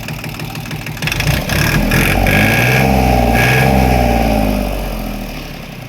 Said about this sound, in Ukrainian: Так, ну тракторець вже аж прогрівся.